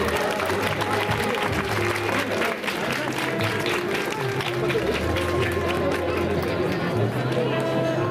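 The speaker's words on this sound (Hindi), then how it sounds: "तालियां मुख्य अतिथि महोदय के लिए तालियां बजती रहें।" Continuous audience applause for the chief guest at a school annual function, dense clapping mixed with crowd chatter and a voice speaking over it.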